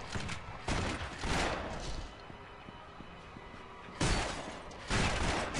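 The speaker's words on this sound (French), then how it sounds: "Elle tire dans tous les sens." Gunfire bursts in the action role-playing video game Torchlight 2, a loud volley near the start, a quieter stretch, then two more heavy bursts toward the end, with a few sharp clicking hits in between.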